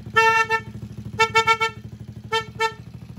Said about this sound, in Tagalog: Tapos si dual horn,